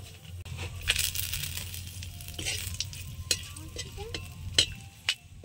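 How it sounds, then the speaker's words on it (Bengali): Dried chili, cinnamon, clove and cardamom tempering in hot mustard oil, giving a soft steady sizzle with scattered sharp clinks and scrapes of a utensil in the pan. "এখানে একটু শুকনো লঙ্কা ফোড়ন দেবো, দারচিনি, লবঙ্গ, এলাচ এগুলো একটু দিয়ে দেবো"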